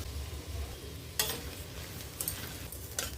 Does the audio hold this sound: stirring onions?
yes